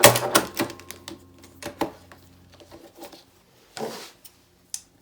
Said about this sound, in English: when I get back to the end where I started, I backstitch a couple of times